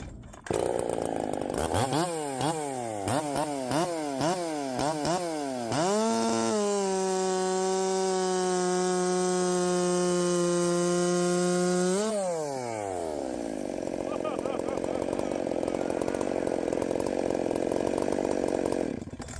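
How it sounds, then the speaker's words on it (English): A Jonsered 2165 race chainsaw revs hard and cuts through wood, its loud, close engine whine rising and holding steady through the cut, then dropping as the chain clears, with no talk over it. "See how fast I cut that shit?"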